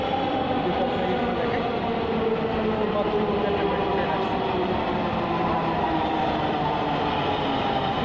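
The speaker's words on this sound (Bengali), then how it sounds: "ওই পাশ থেকে একটা মেট্রো চলে আসলো" A Dhaka metro train pulls into the station on the opposite platform from Uttara, a steady rumbling hum with broadband rail noise that holds evenly for the whole stretch, fairly close and continuous.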